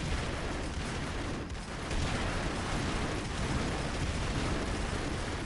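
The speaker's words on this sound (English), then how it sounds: "It was your own explosions, man." Continuous dense roar of rumbling blasts and crackling bursts, loud and sustained with no pause, like heavy explosions and gunfire in a PS4 game.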